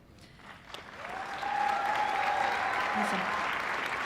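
Audience at a nursing school pinning ceremony breaking into applause that swells after a second and holds as sustained, loud clapping, with a brief voice and tonal sound near the start.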